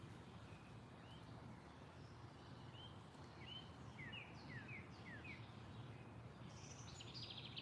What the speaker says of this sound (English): the birds chirping in the background